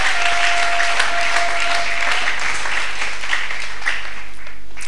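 A church congregation claps during a sermon in a steady, dense round of applause that fills the room evenly and stays loud throughout, with no voices standing out.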